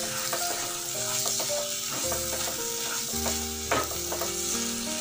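Tomato and curry leaves sauté in a pan for Kerala-style karimeen pollichathu, a steady sizzle and fry with scraping stir strokes, near and continuous, with no voices.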